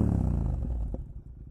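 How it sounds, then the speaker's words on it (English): A motorcycle's CP2 engine rumbles deep and loud through an Akrapovic full exhaust, then the throaty growl fades away. "That CP2 engine with this Akrapovic full exhaust here."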